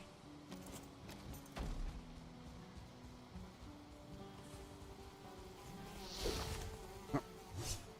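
Insect buzzing from bees in a video game, a faint steady drone through most of the stretch, with a couple of brief louder thumps and swells toward the end.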